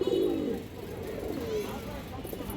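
Caged pigeons coo in a steady low rolling burble, close and fairly loud, continuing through the short stretch with faint room noise.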